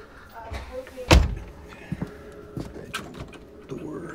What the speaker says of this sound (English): Sliding door, all wood again.